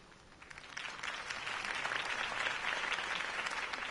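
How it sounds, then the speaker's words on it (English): Crowd applause at a political campaign speech in the Batman Telltale Series video game, a steady, dense clapping that swells after the first half second and holds loud and even throughout. "If only Mr. Wayne, my campaign's largest backer, could have heard that applause"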